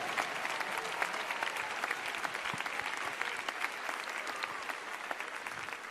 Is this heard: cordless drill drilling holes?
no